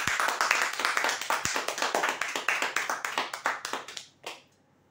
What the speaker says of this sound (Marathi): जोरदार टाळ्या होऊ द्या त्यासाठी